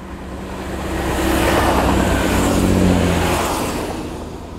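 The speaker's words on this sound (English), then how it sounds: "there's always a train" A train passes by on the seafront railway along the sea wall near Teignmouth, Devon, rumbling up to a broad, loud peak mid-clip and then fading, with steady low-pitched engine drone throughout.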